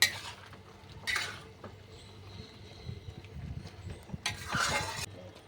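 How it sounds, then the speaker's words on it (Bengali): Salt, turmeric and sugar being mixed in a pan for a fish-head dish: a spoon scrapes and stirs quietly, with two brighter metallic clinks against the vessel, close by. "এক চা চামচ হলুদ দিচ্ছি তিন চা চামচ চিনি দিচ্ছি এগুলো মিক্স করে দিচ্ছি"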